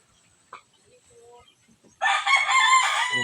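Pet gamefowl roosters; after faint clucks and soft sounds, one rooster bursts into a loud, close crow lasting over a second to the end.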